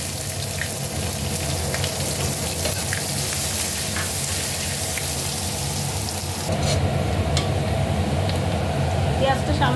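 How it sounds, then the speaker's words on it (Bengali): Chopped onion sizzles in hot oil with a bay leaf and cumin tempering, a steady crackling hiss throughout that grows louder and denser about two-thirds through, with quiet speech in the background. "এরপরে যে ছোট্ট পেঁয়াজটা কেটে রেখেছিলাম সেটা দিয়ে দিলাম।"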